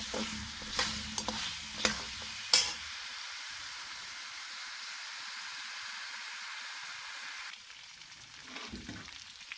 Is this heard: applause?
no